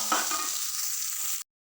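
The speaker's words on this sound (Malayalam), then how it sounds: "ഇതാ നമ്മളിതാ ക്യാരറ്റാണ് ഇട്ട് കൊടുക്കുന്നത് നല്ല രീതിക്ക് നമുക്ക് വറുത്തെടുക്കാം" Carrots frying and being stirred in a pan give a steady close sizzle with scraping strokes, cutting off abruptly after about a second and a half.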